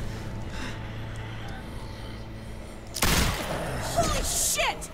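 A single sharp gunshot rings out partway through a tense scene in The Walking Dead: Telltale Series, a sudden loud crack followed by scuffling and gasps over a low rumbling game backdrop.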